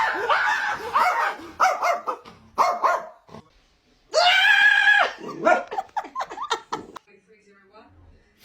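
A startled dog barks and yelps in short loud bursts, with one long drawn-out cry, interleaved with people talking and laughing nearby.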